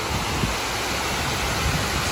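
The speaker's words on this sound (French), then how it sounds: "Donc là, la cascade à ne pas rater" A waterfall along a roadside stop in France rushes as a constant, dense broadband roar, steady and unbroken with no voices over it.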